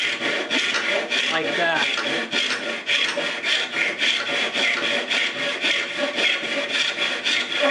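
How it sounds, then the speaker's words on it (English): A cheap, freshly sharpened tenon saw cutting through wood, close and loud, with steady rhythmic rasping strokes repeating about twice per second; a brief voice is barely present. "It's cutting really smooth"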